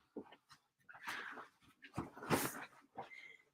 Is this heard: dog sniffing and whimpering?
yes